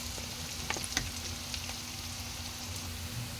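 Garlic and ginger fry in oil toward golden brown for simple Filipino ginisang monggo, making a soft, steady sizzle with a few small pops and light utensil taps near the start, quiet and close, with no one talking.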